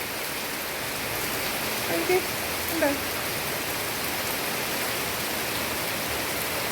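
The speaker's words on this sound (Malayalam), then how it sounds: "കണ്ടോ മഴ പെയ്യുന്ന കണ്ടോ? അയ്യോ, നല്ല സൂപ്പർ മഴയാണ്." Heavy rain pours steadily in a home yard, a dense, loud, continuous hiss and roar throughout, with a brief voice speaking faintly beneath it.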